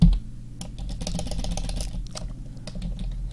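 Quick bursts of typing on a computer keyboard, clusters of close, crisp key taps with short pauses between them, over a low steady room hum and no talking.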